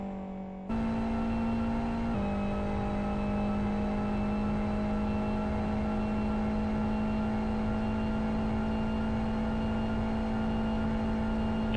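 A race car engine in a racing video game is held at full revs with the clutch in while the turbo spools before a launch on the SouthCity Long circuit. A loud, steady drone with a slight pitch shift early on runs throughout.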